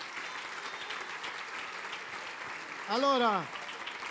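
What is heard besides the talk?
audience applause for young cyclist Sofia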